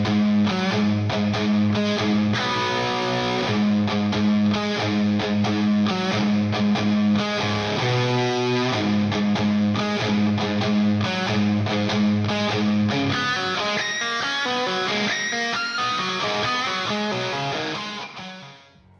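An electric guitar plays a riff slowly with a swung feel, a distorted, sustained tone that rings steadily throughout and fades out at the end.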